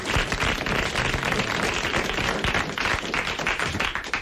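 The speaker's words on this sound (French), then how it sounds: "Vous applaudissez Madame Portier de Mons" Studio audience at a 1987 French television talk show breaking into sustained, dense applause, steady and loud for the whole stretch with no voices on top.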